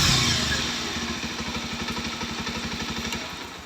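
A Bajaj Pulsar 125 BS6 motorcycle fires up on its electric self-starter and settles into a steady, rhythmic idle, close and clear with no talk.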